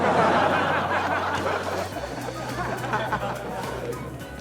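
Preset laughter effect from a Comica ADCaster C2 streaming sound pad, a crowd laughing and chuckling with background chatter, loud at first and easing off, over a low electronic hum.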